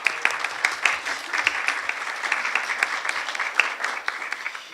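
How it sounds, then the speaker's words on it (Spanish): An audience at a forum on the migrant caravan claps for a sister introduced as a guest, producing a lively, crisp round of applause that carries evenly throughout. "¿Le podemos dar un aplauso a la hermana?"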